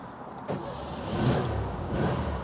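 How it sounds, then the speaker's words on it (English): A 1958 Porsche 356A Speedster cold-starts: a short cranking rise followed by the engine catching into a rough, rumbling idle that swells and settles, heard close with no talk. "We'll do a little cold start."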